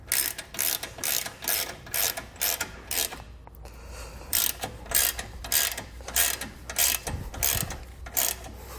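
A ratchet wrench tightens a bolt on a Roadmaster Direct-Connect base plate kit mounted to a 2020 Jeep frame. Close, loud bursts of rapid clicking repeat in a steady rhythm with short pauses between strokes.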